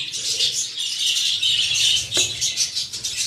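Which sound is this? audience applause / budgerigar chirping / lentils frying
budgerigar chirping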